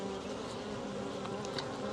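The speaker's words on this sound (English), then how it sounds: "all the bees that are buzzing around me are typically worker bees" Swarm of honey bee workers buzzing close around a beekeeper at a hive during spring splits, a dense steady droning hum with individual bees whining past.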